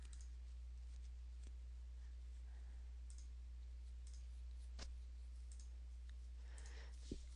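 Faint computer mouse clicks at a desk, a few sparse, sharp taps spaced seconds apart over a quiet low hum, with no talking.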